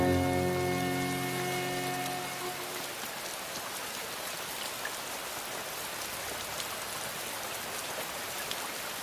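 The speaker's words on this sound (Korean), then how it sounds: "곶자왈에 비가 내립니다." Steady rain falls on the dense Gotjawal forest of Jeju, a constant close hiss of drops with occasional sharper patters, while a low sustained tone fades out over the first few seconds.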